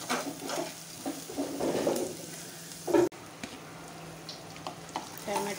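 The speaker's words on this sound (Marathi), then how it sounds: "चांगला लालसर होईपर्यंत परतून घेऊया." Onion masala sautéing in a pressure cooker for prawn biryani, a steady close sizzle of frying with stirring scrapes and one sharp clatter near the middle, no talk.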